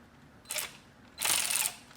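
Ratchet wrench loosening a part on a supercharger fitted to a Chevy SS, heard as two short, close clicking bursts, the second longer, with quiet gaps in a garage.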